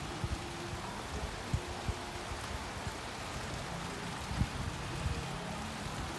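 Heavy rain pours steadily in Bangalore, a dense even hiss with scattered louder drops landing nearby and no voices.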